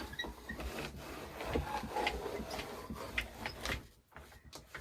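Fabric wound through an AccuQuilt fabric cutter makes a close, continuous mechanical rolling and grinding with irregular clicks and rattles, fading near the end, with no talking.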